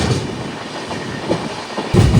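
The Hubli-Kochuveli Superfast Express rolls along, heard from inside an AC two-tier coach as a loud rumble with a clickety-clack of wheels and a sharp jolt near the end, with no talking.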